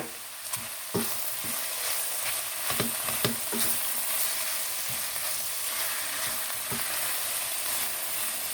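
Mushrooms and vegetables fry in a pan with a steady soft sizzle, broken by several sharp clicks and scrapes from stirring, heard alone without talk.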